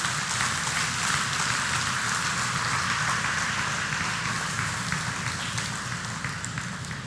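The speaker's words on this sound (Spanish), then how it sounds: "Dele un fuerte aplauso a nuestro Dios." A church congregation applauds during a Sunday service, producing a broad, sustained wash of clapping from many hands that carries on evenly and tapers slightly toward the end, with no speech on top.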